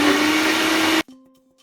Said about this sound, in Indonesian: Di blender hingga halus.